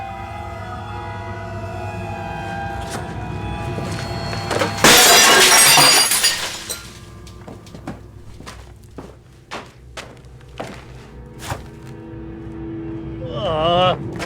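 A glass window shatters in a horror film scene: a loud, bright burst of breaking glass crashes in mid-clip and trails into scattered tinkling debris, surrounded by quieter thumps and dialogue-like voices.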